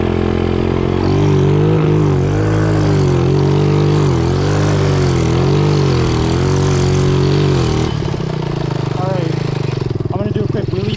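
Small engine running on two cans of Red Bull in place of motor oil, loud and close with a steady droning pitch that wavers and drops, a voice talking over it.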